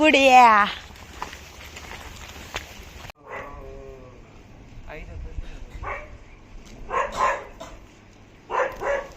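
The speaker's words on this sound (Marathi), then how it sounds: "सगळे बघा कसे निघले तिथं आम्हाला भुभू भेटले" A dog barks a few times on a pilgrim path up to the hilltop temple at Saptashrungi Gad, heard in short bursts from close by, with people talking over and between the barks.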